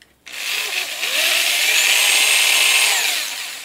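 A power drill bores steadily with a bit through a stripped cam carrier bolt hole on a Quad 4 engine, a loud continuous high whine rising after a brief start and holding for about three seconds before easing off.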